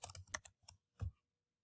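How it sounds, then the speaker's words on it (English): Keys clatter on a computer keyboard as a short sentence is typed: a quick burst of clicks in the first half second, a pause, a couple more taps, then one firmer keystroke before silence, close and fairly quiet. "So I just click somewhere and I type, Jack lied to his mom"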